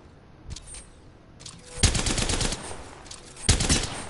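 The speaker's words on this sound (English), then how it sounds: "Opening fire." Bursts of automatic gunfire in a first-person shooter video game, with a short volley, a sustained stretch of rapid shots, and another loud burst near the end, heard close and without talk.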